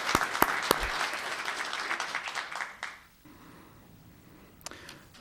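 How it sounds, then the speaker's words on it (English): A town council meeting audience claps for about three seconds, lively and close with a few sharp individual claps, then the room drops to near silence, broken by a couple of late claps near the end. "Let's give one more round of applause for Paige Frongzak."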